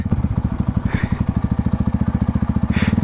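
A motorcycle engine chugs with a fast, even pulsing beat on a damaged hill road, close and steady throughout the short stretch, with no voices over it.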